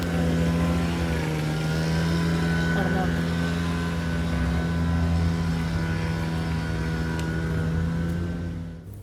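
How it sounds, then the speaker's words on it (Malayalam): A speedboat runs offshore near a beach, its steady droning engine hum holding throughout and fading slightly at the end. "തൊട്ടപ്പുറത്ത് ബീച്ച് ആയതുകൊണ്ട് അതിൽ സ്പീഡ് ബോട്ട് പോകണ സൗണ്ട് ആട്ടോ ഇങ്ങനെ ഈ ബാക്ക്ഗ്രൗണ്ടിൽ കേട്ടോണ്ടിരിക്കുന്നത്."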